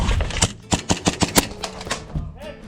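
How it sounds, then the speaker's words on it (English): Airsoft pistol shots crack in a quick irregular string of about eight sharp snaps during an airsoft game, with voices in the background. "That's the sound of Luke's pistol"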